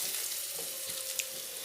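Onion frying in a pan for Bengali prawn malai curry gives a soft, steady sizzle with faint hiss, low in level and unbroken, with no talk.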